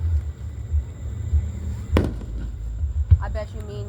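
Fourth of July fireworks in Marianna, Florida, burst twice with sharp booms over a low rumble, and faint voices are heard just after the second blast.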